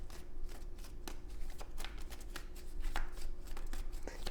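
Tarot cards are shuffled in a close, continuous series of crisp riffles and soft slaps, fairly quiet throughout.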